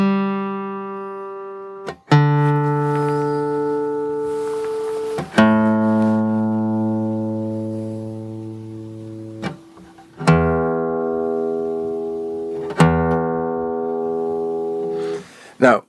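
An acoustic guitar is tuned in a recording studio, with single strings plucked one at a time, each note ringing out and slowly fading before the next pluck, with a few slight adjustments in pitch.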